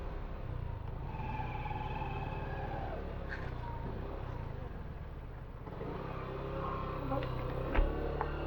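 A motor tricycle on a narrow road under construction putters along in a low, steady engine rumble, nearby and moderately loud, with a sharp knock near the end and a voice murmuring faintly under it.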